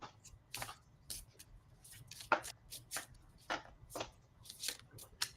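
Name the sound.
shuffling tarot cards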